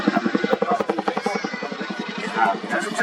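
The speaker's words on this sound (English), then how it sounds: "Now Worley pulls to maximum power for the dawn climb." RAF Chinook helicopter pulling maximum power for a dawn climb at an air show, its loud pulsing rotor thump beating steadily throughout under a commentator's voice.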